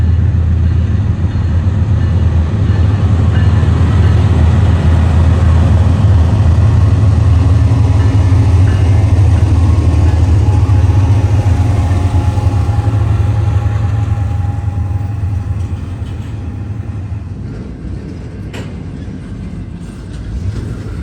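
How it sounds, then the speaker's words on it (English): A freight train led by H2 GEVO locomotives rolls past, a loud, deep, steady engine drone with wheel rumble that holds for a long stretch and then gradually eases off. "here's the train."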